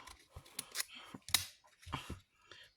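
Scissors cut paper for a pink-themed art journal page, giving close, quiet snips in short irregular bursts with brief pauses between them.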